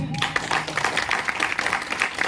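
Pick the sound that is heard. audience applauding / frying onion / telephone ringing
audience applauding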